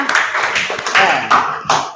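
A classroom of students claps briefly for a good answer during an Islamic studies lesson on marriage, a few sparse bursts of hand claps under ongoing talk.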